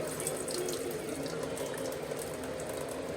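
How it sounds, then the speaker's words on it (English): Water pours steadily off cooked spaghetti into a sink, a continuous close rush of running water with no talking. "Pour that water off of it."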